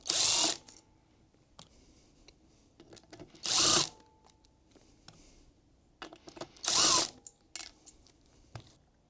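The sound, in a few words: 13mm nuts being removed from Ferrari flywheel cover plate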